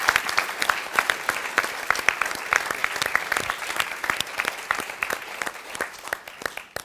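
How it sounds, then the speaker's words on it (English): An audience at a school question-time event gives itself a round of applause, with dense, sustained clapping from many hands that holds at an even level throughout. "Give yourself a round of applause."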